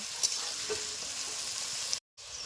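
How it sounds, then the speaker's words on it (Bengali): Green chilies and onion frying together in mustard oil in a kadai make a steady sizzle with faint stirring scrapes, broken off by a short silent gap near the end. "কাঁচা লঙ্কা আর পেঁয়াজ একসঙ্গে ভালো করে ভেজে নেব"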